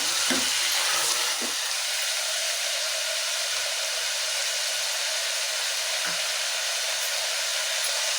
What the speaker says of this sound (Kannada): ಸ್ವಲ್ಪ ಎಣ್ಣೆಲ್ಲೇ ಚೆನ್ನಾಗಿ ಫ್ರೈ ಆಗಬೇಕಿದು